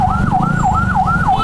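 An ambulance siren wails in a rising and falling cycle, loud and close amid traffic rumble, repeating about every third of a second without talk.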